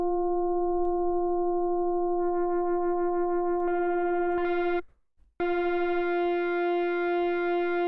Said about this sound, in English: I'm going to make something using FM with sine waves.